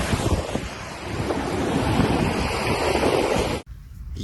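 Ocean surf and strong wind roar steadily on a beach, a dense continuous wash with wind buffeting the microphone, cutting off abruptly near the end.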